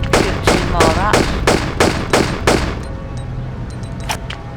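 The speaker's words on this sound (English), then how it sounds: "Shoot a rat once you get down the stairs." Rapid bursts of gunfire at rats in a Tomb Raider Chronicles custom level set in the streets of Rome, about seven loud close shots in a quick regular rhythm, then quieter game clicks.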